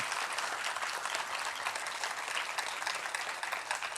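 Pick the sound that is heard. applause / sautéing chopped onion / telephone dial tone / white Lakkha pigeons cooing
applause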